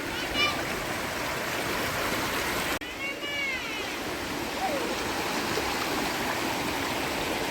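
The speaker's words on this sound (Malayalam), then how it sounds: "ഗൈസ് നല്ല ഒഴുക്കൊക്കെ ഉണ്ട് കേട്ടോ" River water flowing with a strong current at a spot used for swimming practice, a continuous broad rush filling the whole stretch, briefly cut off once midway before resuming.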